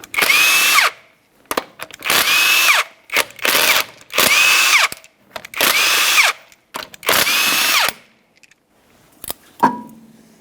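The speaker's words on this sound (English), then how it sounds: "we're going to remove all 5 of these lug nuts using a 19mm so we can remove the wheel" A power tool with a 19mm socket removes the five wheel lug nuts from a 2012-2015 Honda Civic, sounding as six loud, close, whirring bursts of about a second each, separated by short pauses and ending in a metallic clank.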